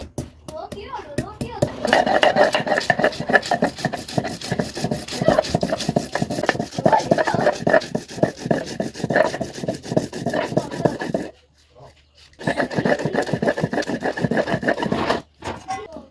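Mustard seeds are ground by hand on a flat stone slab with a grinding stone, giving loud, rapid, rhythmic rubbing strokes that run continuously, break off briefly near the end, then resume.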